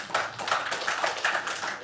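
Audience applause at a stand-up comedy show, a steady patter of many hands clapping for about two seconds at moderate loudness with no talk over it.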